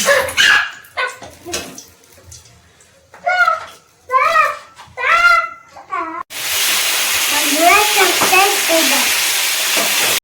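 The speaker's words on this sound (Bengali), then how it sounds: "এখন ফোড়নে তেজপাতা দিয়ে দেবো তেজপাতা একটু ভেজে নিন" Bay leaves sizzle in hot oil as a tempering for a Bengali pangas fish curry, a steady loud frying hiss that begins partway through after a stretch of talking, with a voice continuing over it.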